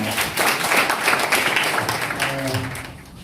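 A party meeting audience applauds to welcome a speaker in a conference hall, a dense, fairly steady clatter of clapping that fades toward the end, with a faint voice underneath.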